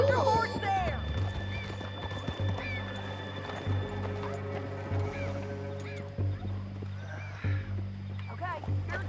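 Horse hooves clip-clopping with an occasional neigh in the video game Red Dead Redemption 2, steady and mid-distance under a constant engine-like hum, with voices talking over it.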